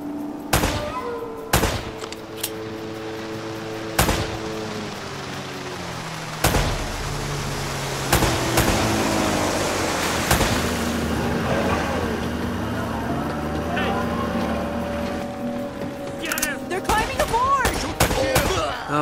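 Gunshots in the Uncharted video game, several sharp loud cracks spaced out over ongoing game noise and music, with characters talking in between.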